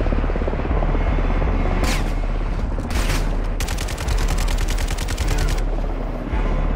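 Gunshots fired at a vehicle tyre in a video game, heavy rapid bursts of automatic fire over a loud droning engine or rotor rumble, close and dense.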